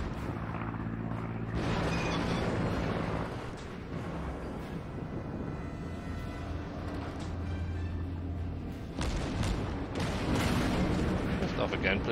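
Warship guns firing in the naval game World of Warships, heavy booming blasts and rumbling battle noise, with someone talking over parts of it.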